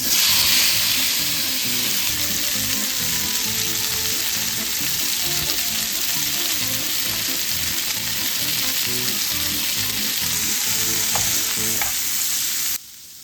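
Steady, loud sizzling of sliced pork belly frying in sunflower oil in a hot pan, continuous crackle and hiss throughout, cutting off abruptly at the end.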